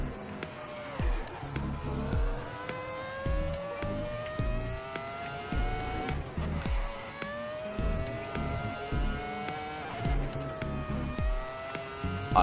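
Race car engine in the Assetto Corsa game, driven with a keyboard, revving through repeated upshifts and lifts, with tire noise, while someone talks over it.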